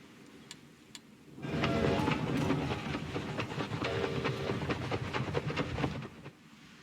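Trains in the video game Hearts of Iron 4 rumble and clatter up close, a steady rolling din with rapid clicking rhythm that swells in, holds for several seconds, then drops away.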